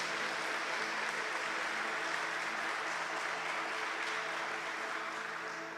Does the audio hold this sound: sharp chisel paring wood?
no